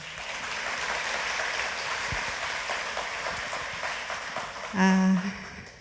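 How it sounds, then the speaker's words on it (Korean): Crowd applause and cheering fill a church sanctuary during an evangelism festival testimony service, a dense, steady wash of clapping throughout, with a brief voiced sound rising near the end. "강단에 올라오기 전부터 큰 환호를 받은 것은 이 교회가 처음인 것 같습니다"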